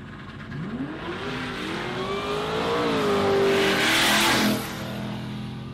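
Drag racing car at a dragway revving hard with a rising engine tone, then the driver lifts off the throttle and the roar drops away, loud and close with no talk.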